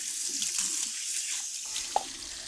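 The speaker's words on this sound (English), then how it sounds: "Let's just give these a quick wash." Running tap water streams into a kitchen sink while fresh carrots are rinsed and scrubbed by hand, a steady moderate splash with brief rubbing and a small knock near the end.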